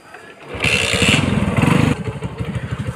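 A BMW S1000 RR motorcycle engine idling and revving up close, loud and throbbing, settling into a rapid pulsing idle near the end.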